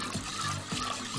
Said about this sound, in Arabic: ننزل بقى باللبن كده.